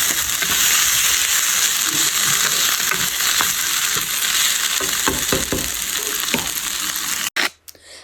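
Onions and mutton frying in a pan for Tamil curry, a loud continuous sizzle with scraping stir strokes in the middle, ending in a sudden clatter and a quieter pause.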